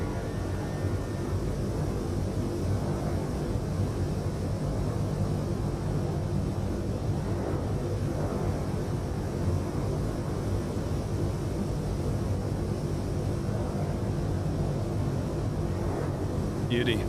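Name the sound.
PMDG 737-800 aircraft sound pack, Microsoft Flight Simulator video game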